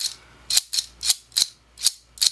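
A Transformers Machine Wars Sandstorm toy's mech-tech claw weapon clicks sharply six times in quick, fairly even succession, close and crisp, with near silence between snaps.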